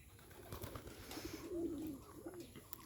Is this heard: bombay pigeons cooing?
yes